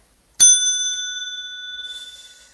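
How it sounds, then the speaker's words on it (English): A single bright ding from a small hand bell, ringing clearly and fading slowly over a couple of seconds. "I'm getting better at that bell ringing"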